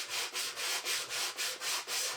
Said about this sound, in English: you don't have to use the sanding block on yours if you don't want